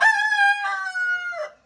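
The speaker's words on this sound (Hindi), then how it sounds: "मुर्गे की आवाज़ सुनो।" Thai fighting rooster in a village crowing once nearby, a clear drawn-out cock-a-doodle-doo with a falling ending, alone against quiet surroundings.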